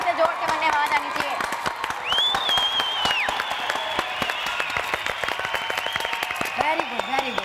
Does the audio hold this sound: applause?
yes